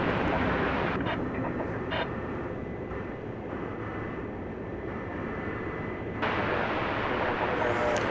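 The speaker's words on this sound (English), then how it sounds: "And in goes the A300 into its berth." An Airbus A300 taxis into its gate at DFW Airport, a steady, continuous engine rumble with a broad roar that holds level throughout, with no clear peaks.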